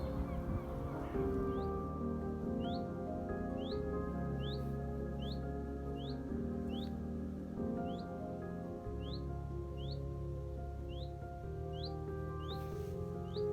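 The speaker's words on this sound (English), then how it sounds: "The bird singing in the tree." Repeated short, high chirps from a bird singing in a silver birch tree recur at a steady rhythm over a low, constant background hum, fairly faint.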